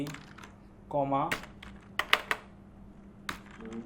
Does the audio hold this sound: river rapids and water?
no